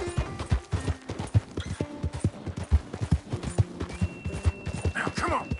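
Horse hooves trot in steady, quick clip-clop beats in Red Dead Redemption 2, close and moderately loud, with faint game background sounds behind them.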